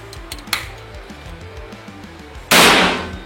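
A GK Mini Gen 3 PCP air rifle fires, giving one loud, sharp pop near the end after a faint click earlier, over a low background hum.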